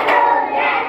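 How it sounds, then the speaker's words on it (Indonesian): A group of preschool children claps together in a classroom, producing a dense, loud burst of hand claps that fills the short moment. "Tepuk satu kali. Tepuk dua kali."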